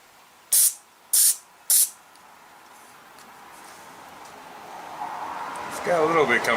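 Three short sharp sprays of carburetor cleaner hiss into the dirty carburetor of a Toro Recycler lawn mower that will not start, followed by quieter rustling before a voice begins speaking.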